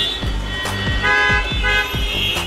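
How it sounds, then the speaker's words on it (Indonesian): Car horns honk in Indian road traffic, repeated short toots at a steady rhythm over a continuous motor hum, loud and close, with no talk. "Orang India itu doyan membunyikan klakson"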